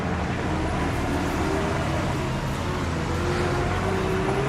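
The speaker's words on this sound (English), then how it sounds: "we now have to contend with all the grit lorries coming out in front of us here" Heavy grit lorries rumble past close by on an icy road, a broad continuous roar of engines and tyres with no voices.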